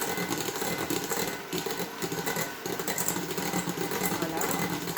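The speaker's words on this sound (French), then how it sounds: "Et pareil, je vais fouetter par contre tout doucement" Egg whites being slowly whisked with sugar by an electric mixer for a simple butter-free Easter cake, a steady mechanical whirring and rattling that runs continuously from start to finish without any talk.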